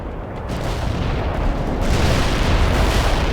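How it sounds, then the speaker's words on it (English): A heavy artillery strike in World in Conflict lands as a continuous roar of booming explosions, loud and dense, building slightly toward the end with no talk over it. "Heavy artillery strike fire."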